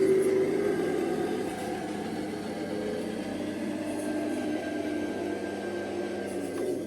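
An RC car fitted with a ZP1006 planetary gearbox drives with a steady motor and gear whine that holds a fairly even pitch, moderately loud and close, with no voices.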